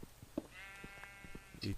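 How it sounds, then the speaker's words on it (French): A sheep bleats in a Minecraft-style block video game, a short wavering cry in the middle of the clip with a second brief bleat near the end, heard over faint game ambience. "Je te jure, j'entends un mouton."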